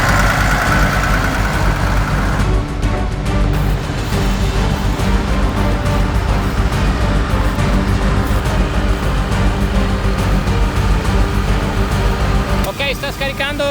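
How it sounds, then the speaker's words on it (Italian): A farm tractor pulling a grain trailer rumbles steadily nearby as it is driven under cover after the wheat harvest, with a constant low engine drone throughout and a brief clatter near the end. "il padre sta portando al coperto il trattore con il primo rimorchio"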